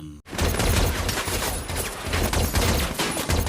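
Gunfire in a war film: a loud, dense burst of rapid shots and crackling impacts that starts abruptly after a brief silence and keeps going without a break.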